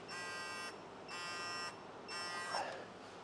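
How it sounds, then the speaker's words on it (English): Electronic torque wrench beeping while tightening a camshaft timing bolt on a BMW M62TU V8 engine: three steady, evenly spaced buzzy tones, close and clear with no talking. "It beeps on the way up to torque, and then it does a double beep at full torque."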